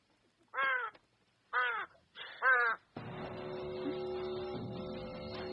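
A crow gives three loud, harsh caws nearby with short gaps between, followed by steady background noise and a faint hum.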